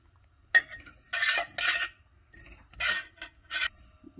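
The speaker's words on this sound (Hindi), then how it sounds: "सबसे पहले हम बर्तन गर्म होने पर हम तिल को बिना घी के रोस्ट कर लेंगे।" Sesame seeds dry-roast in a hot pan without ghee, stirred in short bursts of dry scraping and rustling separated by brief pauses, close and fairly loud, with no talking.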